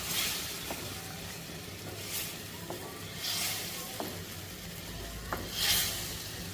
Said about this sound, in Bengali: মাছগুলো দিয়ে দিব ছোটো মাছগুলো দিয়ে দিব এবার ভালো করে নেড়ে ছেড়ে দিব